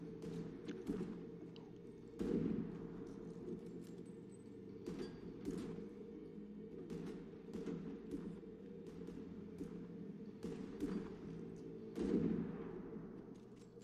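Gunfire in an episode of The Last of Us TV series rings out as sharp bursts of suppression fire, several loud shots spaced irregularly over a steady low rumble, fairly quiet overall with no talk.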